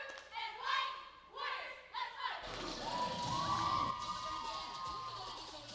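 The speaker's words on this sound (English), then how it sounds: "Now the cheering." Cheerleading squad at a high school game shouting and cheering, with rhythmic shouted calls at first, then a louder sustained burst of crowd cheering and thumps from tumbling.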